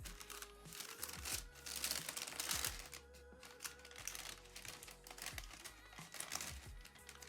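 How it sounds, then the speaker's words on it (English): Nike Supreme branded wrapping paper crinkles and rustles close up as it is handled, in quick irregular crackling bursts with brief pauses. "We have the Nike Supreme branded wrapping paper."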